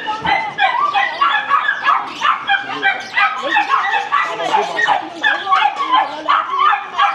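Caged dogs at a market in China bark and yip nonstop, a dense, loud, rhythmic chorus of yaps and whimpers from several animals close by, continuing without a break throughout.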